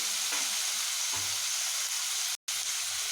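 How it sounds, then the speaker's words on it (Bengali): Potato, papaya, carrot and green beans fry together in a pan, making a continuous sizzle with light stirring, cut by one brief dropout near the end. "ভালোভাবে এবার সবগুলোকে আমি একসঙ্গে এইভাবে ভেজে নেব"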